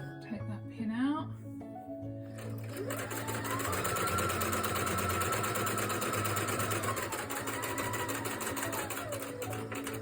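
A sewing machine stitches fabric for a homemade tissue holder, running steadily and loud for several seconds after a brief start, with faint talking near the beginning.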